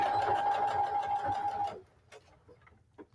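A sewing machine back stitching denim and fabric scraps, a steady whirring hum for under two seconds that then stops, followed by a few faint clicks.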